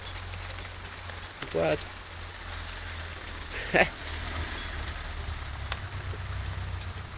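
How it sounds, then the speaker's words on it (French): Steady rain alternating with hail patters hard on a surface outdoors, a dense hiss with faint sharper ticks, while a person briefly speaks. "Ça revient de la grêle plus costaud là."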